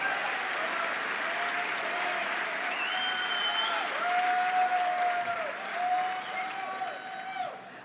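A church congregation at a men's conference claps in a long, loud round of applause with scattered cheers, swelling midway and easing toward the end, while a sustained tone hums beneath.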